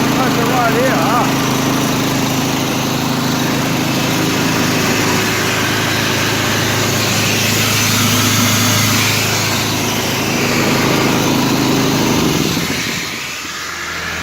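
Air compressor mounted on a ute runs steadily with a loud, continuous engine-like drone and hum, then cuts out near the end.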